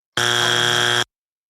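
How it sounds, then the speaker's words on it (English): A studio buzzer blares as one steady, loud harmonic tone lasting just under a second, then cuts to silence; no talking over it. "That's why I reached over for the buzzer."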